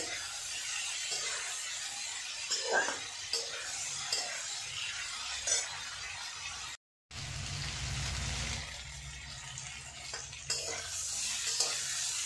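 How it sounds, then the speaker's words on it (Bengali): Potatoes seasoned with salt and turmeric fry in a pan, a close, continuous sizzle broken by scraping stirs and a short silent gap, then a fuller, louder frying sound; no speech. "এবার এটাকে একটু নরম নরম করে ভেজে নেব।"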